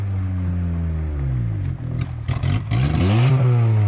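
A KTM motorcycle engine idling roughly then revving up in several sharp bursts, loud and close, with the pitch climbing and falling, no speech over it.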